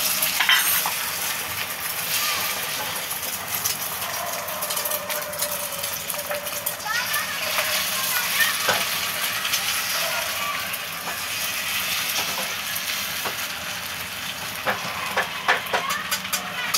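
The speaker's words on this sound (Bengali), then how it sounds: "এই যে আমি অমলেটটা ভেজে নিচ্ছি।" An omelette frying in a pan with a steady, close sizzle and hiss, punctuated by stirring and scraping clicks, while someone talks over the cooking.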